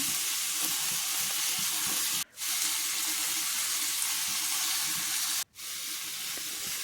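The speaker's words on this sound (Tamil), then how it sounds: "தக்காளியையும் போட்டு வதக்கிடலாம். தக்காளி வதங்கிட்டு இருக்குது." Chopped tomatoes with rock salt sautéing in a pan for a curry leaf chutney give a steady, close, loud sizzling hiss that runs throughout, broken twice by brief sudden cuts to near silence, with no talking.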